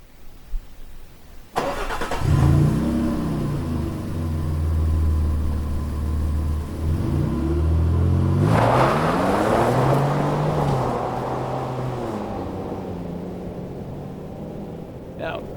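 A 2025 Nissan Frontier PRO-4X pickup truck starts and accelerates hard, its engine note climbing through several gears in rising sweeps, loud and close from the cabin, with a voice speaking partway through.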